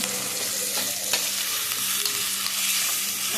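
Tomatoes fry in oil in a pan, giving a close, steady sizzle with faint stirring scrapes mixed through it and no talking.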